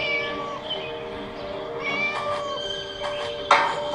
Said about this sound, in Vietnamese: Nghe đâu đó có tiếng mèo kêu